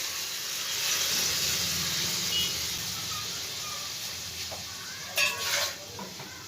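Boiled chana dal (split chickpeas) added to a hot pan and fried, giving a steady soft sizzle with a few brief clattering stirs near the end.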